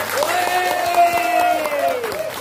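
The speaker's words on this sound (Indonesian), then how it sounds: "tepuk tangan sekali lagi" Applause from a seminar audience fills the room at a steady level, with a sustained, voice-like tone held above the clapping for most of its length.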